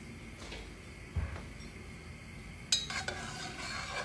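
Food being stirred in a pan during home cooking, with a couple of scraping clinks of a utensil against cookware over a faint background hum; no talking.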